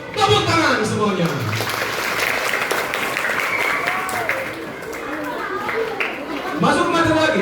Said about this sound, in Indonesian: Bagus. Tepuk tangan semuanya.